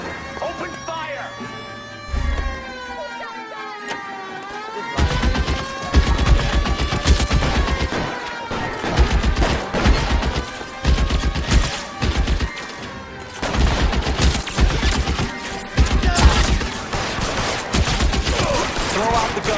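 Gunfire from a shootout in the video game L.A. Noire: loud repeated gunshot bursts crack throughout amid orchestral music, with shouted voices between volleys.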